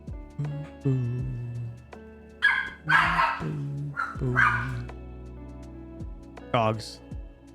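Several dogs bark and yip in short bursts with some whimpering, fairly close and loud, over a steady tonal background.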